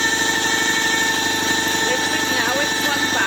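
A Land Rover Discovery TDV6 diesel engine idles at 780 RPM with a steady, loud mechanical drone and faint whine, running evenly throughout without a break.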